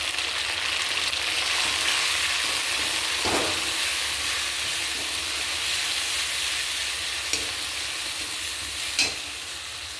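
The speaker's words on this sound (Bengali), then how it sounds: "আদা দেওয়ার পর একটু ভেজে নিলাম" Ginger with dried chilli paste and cumin frying in a pan, a continuous hissing sizzle at moderate volume, broken by a few faint scrapes of stirring.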